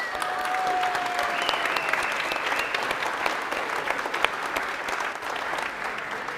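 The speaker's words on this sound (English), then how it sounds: "Huge round of applause for them all." An audience at a science event in a brewery applauds the sponsors, with sustained dense clapping at moderate distance that holds steady and slightly thins toward the end, with no talking over it.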